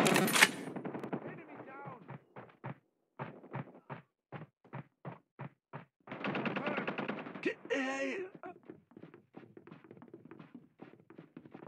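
Rapid bursts of automatic gunfire from Call of Duty Mobile ranked multiplayer, with a fast staccato string of separate shots followed by denser firing. A player talks excitedly over it between and during the bursts.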